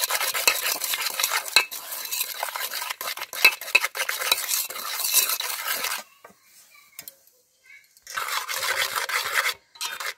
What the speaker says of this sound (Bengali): চিনি আর ডিমটা ভালো করে মিশিয়ে নিচ্ছি